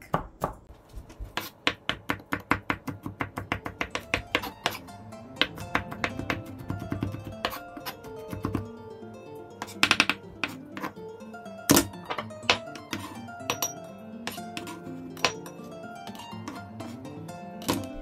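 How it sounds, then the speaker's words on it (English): Rapid, steady knife chopping of garlic on a cutting board, a fast run of sharp taps that slows to irregular thunks, no talking. "I'm gonna chop this all up"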